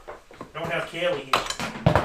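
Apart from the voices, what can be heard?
micron airbrush dropped, hitting the floor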